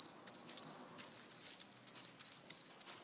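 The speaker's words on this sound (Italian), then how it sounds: "sto grillo è una tortura" A cricket chirping in a steady, regular pulse, about three shrill trills per second, close and clear against an otherwise quiet background.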